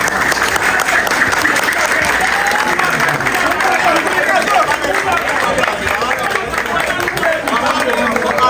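Sustained applause from a church congregation at the inauguration of a new cathedral, loud, steady clapping mixed with crowd noise and some voices throughout.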